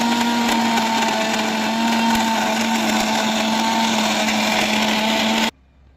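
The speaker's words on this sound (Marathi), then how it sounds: "मिक्सरमध्ये बारीक लगदा करून घ्यायचा" An electric mixer grinder whirs loudly and steadily as it blends wood apple pulp with jaggery, garlic and chillies into a smooth chutney, then cuts off abruptly, leaving near silence.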